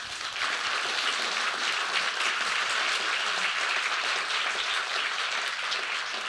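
Audience applause fills a talk on refugees, a steady dense wash of clapping from a large crowd that runs unbroken and fairly loud from start to finish with no voices over it.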